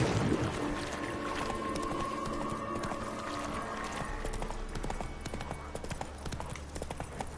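Roach, the horse in The Witcher 3 on PlayStation 5, gallops with steady, rapid clip-clop hoofbeats that stay loud and close throughout, over a layer of game ambience.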